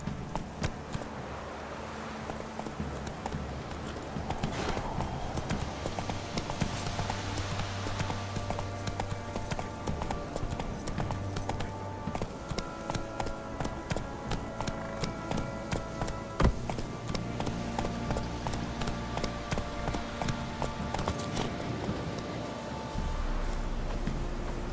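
Hooves clip-clop in a steady rhythm as a horse is ridden in the video game The Witcher 3, continuous and fairly close over wind and ambient game sound, with no talking.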